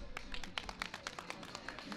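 Live audience clapping at a final-day event in Ankara, a dense, steady patter of many hands from a nearby crowd lasting throughout, with no voices over it.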